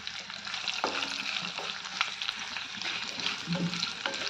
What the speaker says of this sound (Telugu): వేరుశనగ గుళ్ళు, కాస్త జీలకర్ర, ఇవన్నీ వేగాక ఒక 8 పచ్చిమిరపకాయ చీలికలు,